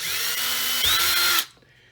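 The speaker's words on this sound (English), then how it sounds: "And then I'm going to take my drill, just a little power drill." A small power drill fitted with a 3/32 bit whirs steadily as it bores into lead came for a leaded glass solar lantern, its pitch rising briefly before the motor cuts off and falls to near silence.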